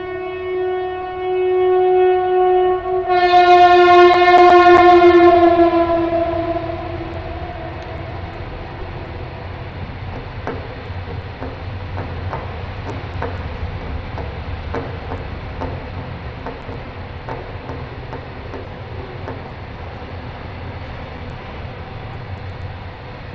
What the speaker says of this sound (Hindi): एक और ट्रेन आ रही है